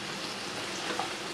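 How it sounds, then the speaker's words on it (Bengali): Potatoes and onions frying in a pan over a raised gas flame, an even, hissing sizzle with faint crackles throughout, close-up and uninterrupted by any voice. "এবারে গ্যাসের ফ্লেমটা বাড়িয়ে আমি এটাকে ভাজবো। আলু আর পেঁয়াজটাকে একটু ভাজবো"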